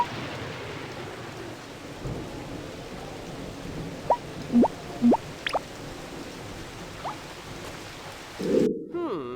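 Rain and thunder in the video game Battle Block Theater: a steady patter of rain with low rolling rumbles, interrupted by a few short bright tones and a brief burst near the end.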